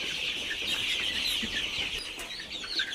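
Fayoumi chickens at a poultry farm cluck and chatter continuously in a busy, close flock, with a steady layered din and occasional sharper calls rising above it.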